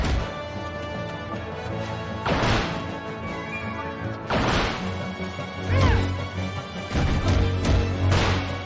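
Jape Saber weapon in Kid Icarus Uprising, a game sound made of repeated sharp crashing melee hits at roughly two-second intervals over steady background game music.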